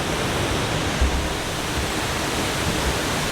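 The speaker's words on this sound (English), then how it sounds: "look at this other waterfall, which is actually almost just as cool" Steady, loud roar of a waterfall in Bali, a dense rushing wash of sound with no voices.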